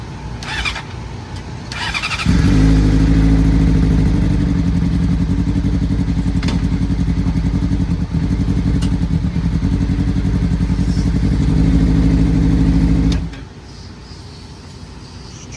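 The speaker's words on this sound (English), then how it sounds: "that's the smoothest I've ever heard it start up" A race car engine cranks and catches, then settles into a loud, steady idle that runs for several seconds before cutting off abruptly.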